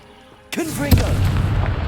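A Confringo fire spell from Hogwarts Legacy bursts loudly after a quiet moment, with a sharp crackling blast and a swooping tonal whoosh that rolls into a sustained rumbling roar.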